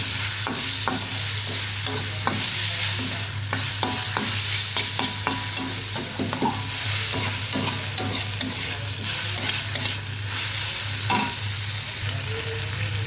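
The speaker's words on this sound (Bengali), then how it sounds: "এখন আমি এর মধ্যে রসুন বাটা দিয়ে দিচ্ছি।" Garlic paste frying in oil with browned onions in a pan, a close, continuous sizzle broken by frequent scraping stirs of a spoon against the pan, with no voices.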